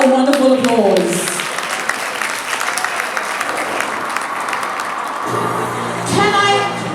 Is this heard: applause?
yes